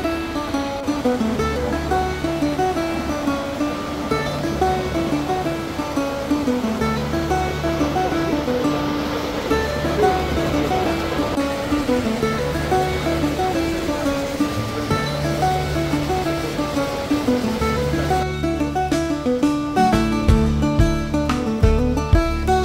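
Carrington Falls waterfall pouring down into a deep valley, a steady dense roar of falling water running unbroken throughout, with a layer of music playing over it and brighter tones near the end.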